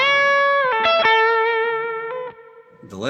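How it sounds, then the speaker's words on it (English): Electric guitar played through a Line 6 Helix-style HX rig, preamp only with no cab sim, with reverb added; sustained chords ring and overlap with a soft tail, ending in a brief strummed attack, no voices. "now let's start to add in some reverb"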